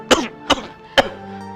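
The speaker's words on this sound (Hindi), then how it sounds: "देखा डॉक्टर साहब आपने, इसी तरह से खांसते रहते हैं" A man coughs three times in quick succession, harsh close bursts followed by a throat-clearing rasp, with no talk.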